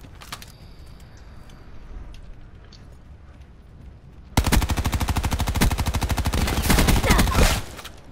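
Sentry gun in Call of Duty Black Ops 4 opens up with a loud, rapid automatic burst of rattling shots lasting several seconds after a quiet stretch of game ambience.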